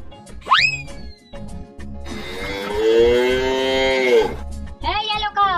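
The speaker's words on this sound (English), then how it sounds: "Hey, Blue Cow! Are you okay?" A cartoonish blue cow gives a long, drawn-out moo, with springy boing effects before and after it.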